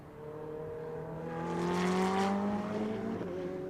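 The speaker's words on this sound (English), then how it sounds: "You can hear him still having to lift, though, through turn 10 before he gets on to the power down towards 11" A GT race car at Motorland Aragon circuit passes with a loud, rising engine note that swells to a peak and then eases slightly as it drives on, heard alone without talk.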